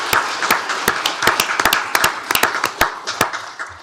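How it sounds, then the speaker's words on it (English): Scattered hand claps from a small group at a county commissioners court meeting, uneven and sharp, building into a brief patter of applause with no voices. "Let's give her a round of applause."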